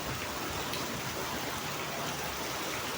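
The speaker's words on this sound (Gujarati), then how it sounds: "મોરબીમાં ફૂલ બારિશ" Heavy rain pours down steadily in Morbi, a dense, continuous hiss of water on surfaces that stays close and loud from start to finish with no voices.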